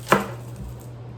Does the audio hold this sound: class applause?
no